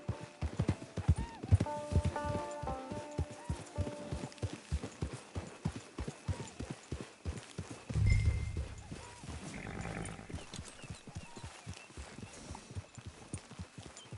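Horse hooves clip-clop in the Red Dead Redemption video game: a steady rhythmic trot of crisp hoofbeats, with a snort or whinny around midway, brief faint game voices early on and a quiet ambient bed underneath.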